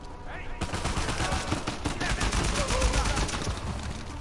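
Rapid automatic AK rifle fire in the Uncharted 4 video game, a dense, loud stream of shots with mixed game noise throughout the clip.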